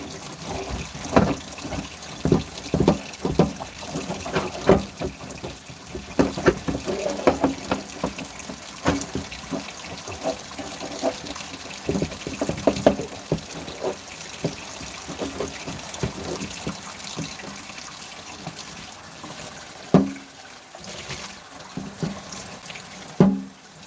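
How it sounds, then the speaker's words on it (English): Water runs from a tap, kept flowing so the pipes won't freeze, a steady close wash of liquid with uneven splashes and gushes throughout, no voices. "we have to keep this water running anyways, or the pipes can freeze"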